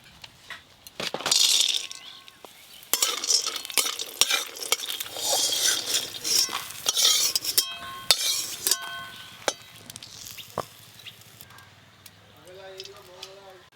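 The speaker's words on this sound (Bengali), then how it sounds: "প্রথমে বড়িগুলো একটু ভালো করে ভেজে নেব।" Lentil dumplings (bori) fry in oil in a pan, with bursts of loud crackling sizzle, clinks and scrapes of a spatula stirring, fading to quieter spitting. A voice speaks briefly near the end.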